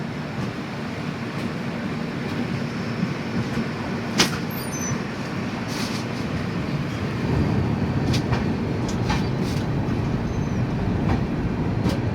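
The Vivek Express train rolls onward after leaving NJP station, with a steady loud rumble from inside the carriage, faint rhythmic clacking of wheels over rail joints and a few sharp metallic clicks.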